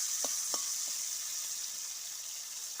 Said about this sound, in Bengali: চিংড়ি এগুলো ভালো করে ভেজে নেবে